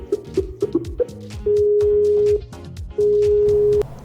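A telephone call connecting tone: a few short beeps at first, then two long, steady electronic tones with a pause between them. Loud and close, with no talk.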